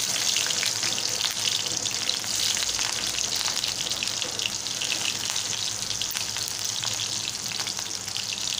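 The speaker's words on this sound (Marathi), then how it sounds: "म्हणजे बारीक चिरून घेतलेला कांदा फोडणीला घालत आहे।" Finely chopped onion sizzling in hot tempering oil with green chillies for a Malvani-style dill greens dish, a soft, steady crackling fry heard up close and alone.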